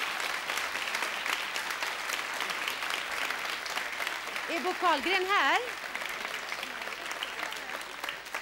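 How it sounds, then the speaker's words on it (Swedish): Studio audience at the 1975 Melodifestivalen in Sweden applauds steadily for a lyricist, a dense, even wash of clapping throughout, with a host's voice briefly speaking over it midway. "Ja, vi kan klappa."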